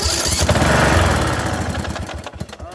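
A Bolens riding mower engine fires up after a sticking starter, settling into a loud, steady close-up running drone that roughens and sputters toward the end.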